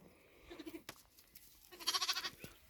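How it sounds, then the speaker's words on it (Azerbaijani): Romanov sheep and lambs bleating, two quavering calls close by, the second louder and more rapidly pulsed, in a quiet farm setting. "Yanında 9 kuzu var."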